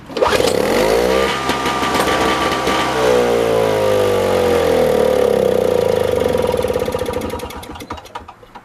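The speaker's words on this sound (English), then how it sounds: "Let's see if it starts." A 1970s Nova snow blower's small engine cranks and briefly fires, a loud revving sputter rising then settling into a fluttering run for several seconds before winding down and dying, close by with no talk.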